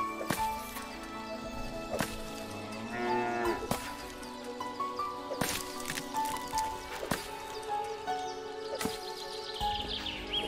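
A cow in the Force of Nature video game moos repeatedly in long, drawn-out calls, interrupted by several sharp clicks and knocks.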